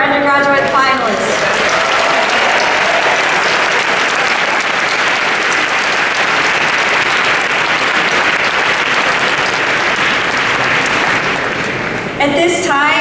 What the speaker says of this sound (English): let's give another round of applause for all of our undergraduate finalists.